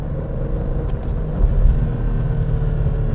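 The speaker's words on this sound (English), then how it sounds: "it'll blip the throttle and rev match automatically, and it's really quite satisfying" BMW M3 E46 in manual mode, its engine rumbling steadily close by with a brief rise around the middle as the throttle blips to match revs, then settling back to a low idle-like drone.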